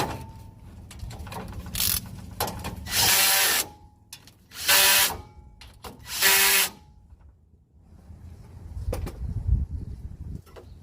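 A power tool snugs bolts back down on the fan clutch of a 1994 Ford F-150 with the 4.9 inline six. There are three or four short, loud bursts of whirring, with quieter workshop clatter in between.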